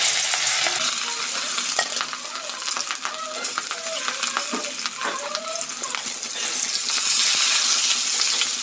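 Salted, turmeric-rubbed fish slices sizzle loudly in hot oil in a pan, a constant close crackle with occasional stirring clatter and no talk.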